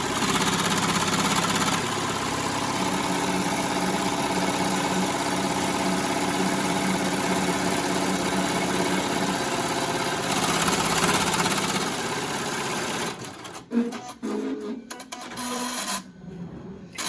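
A Melco embroidery machine stitches masks with a steady rapid mechanical chatter and hum for about twelve seconds, then stops, leaving scattered handling clatter.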